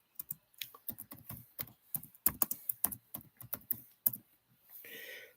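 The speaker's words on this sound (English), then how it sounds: "Here, I'll just type it again for you." Someone types on a computer keyboard, an irregular run of close, crisp key clicks with brief pauses, ending with a soft rustle.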